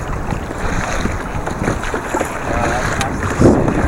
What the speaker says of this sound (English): I guess it's time for me to start paddling again